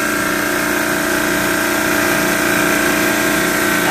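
A Carrier reciprocating compressor runs after unloading, giving a loud close steady mechanical hum with a fast even rattle and no pauses.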